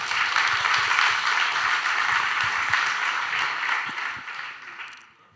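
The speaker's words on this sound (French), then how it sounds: "on l'applaudit bien fort pour le motiver" A conference audience applauds loudly to encourage a speaker at a live talk, a steady wash of many hands that holds and then tapers off at the end.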